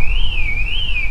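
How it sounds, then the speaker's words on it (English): An alarm at a septic tank site shrills as a steady, loud, wavering high electronic tone that rises and falls slowly, continuous and alone. "I thought, whose alarm's that going"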